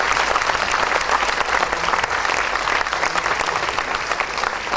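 Sustained audience applause after a music performance at a family concert with piano, dense steady clapping filling the hall for the whole stretch, no talk over it.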